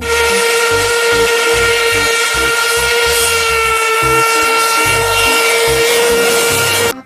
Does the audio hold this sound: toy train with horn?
yes